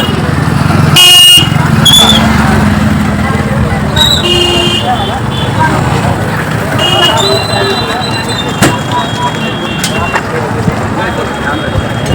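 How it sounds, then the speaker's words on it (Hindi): Road traffic at the India-Nepal border crossing at Hanuman Chowk, with cars and motorcycles passing close by in a steady rumble, punctuated by several short horn toots, while people talk in the background. "गाड़ी जा रही है अभी ये"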